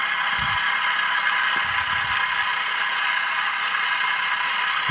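A motorcycle engine fitted with an IRFZ44N MOSFET CDI runs steadily at high RPM, a continuous buzzing drone with a little rattle, close and loud throughout, with no talking.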